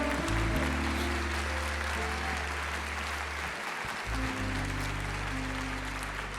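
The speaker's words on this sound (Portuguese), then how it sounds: "A igreja aplauda ao Senhor" A church congregation claps continuously and energetically over sustained low keyboard or organ tones during a worship service.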